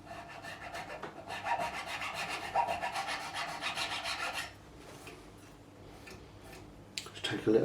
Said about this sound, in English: just file over the top of where this lacquer went